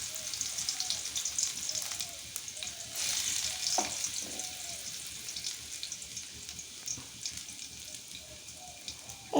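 Garlic fries in hot oil for Sri Lankan fried chickpeas, giving a steady close sizzle with crackling bubbles and occasional stirring clinks, without speech.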